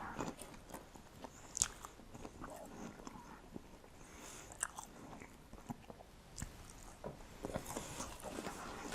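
Close, quiet chewing of a bite of burger with hot sauce, soft wet crunches and smacks repeating irregularly with small pauses between bites.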